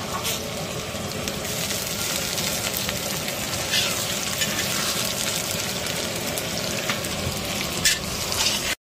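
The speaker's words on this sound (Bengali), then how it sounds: "পেঁয়াজটা লাল করে ভাজবো।" Onions fry in a pan on the way to a festive-style mutton kosha curry. There is a constant loud sizzle with faint watery crackle and occasional stirring, close by and without talk.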